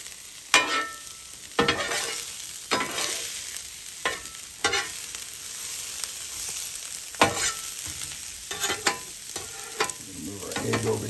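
Vegetables fry on a 17 inch Blackstone griddle with a steady close sizzle, punctuated every second or so by sharp metal spatula scrapes and tosses.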